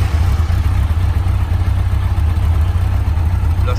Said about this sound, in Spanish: como veis, la moto va fina